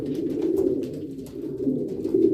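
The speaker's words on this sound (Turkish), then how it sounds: "Hatta şu an bütün yuvalıktaki erkekler ötüyor" Male racing pigeons coo together inside a loft, a low throaty rolling murmur of several birds overlapping continuously, close and fairly loud.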